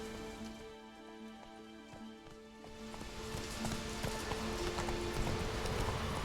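Roach, the horse in The Witcher 3, clip-clops in a steady, rhythmic hoofbeat pattern, close and moderately loud, while rain noise swells behind it and grows denser toward the end.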